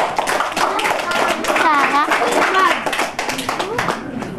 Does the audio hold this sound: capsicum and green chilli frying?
no